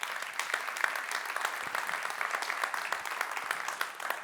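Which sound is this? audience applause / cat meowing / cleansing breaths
audience applause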